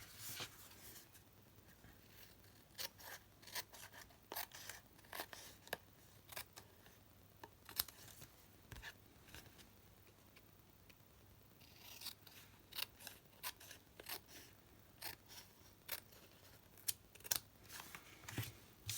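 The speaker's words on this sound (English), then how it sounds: "all I'm going to do is just flip it over and trim the edges off" Scissors trimming the edges of a handmade card from behind, with quiet, close snips coming in irregular clusters and soft paper rustles between them.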